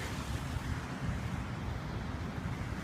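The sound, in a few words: flooded creek water rushing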